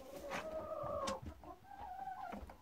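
Chickens and young roosters of the Mechelen Cuckoo breed cluck softly in a farm pen, several quiet calls in a row over faint background noise, with no talk.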